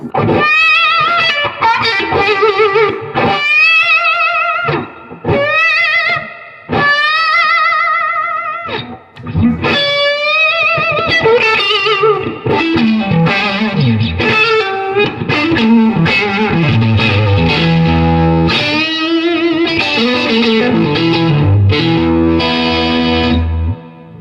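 Electric guitar through a Spaceman Effects Polaris Resonant Overdrive pedal, loud and distorted, playing bright sustained notes and bends in phrases broken by short gaps, with rich harmonics and a touch of effects shimmer; no talking.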